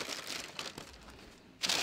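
Fabric crinkling and rustling as it is handled and laid flat for sewing a bathrobe, a close, steady soft crumple that swells into a louder burst of crinkling at the end.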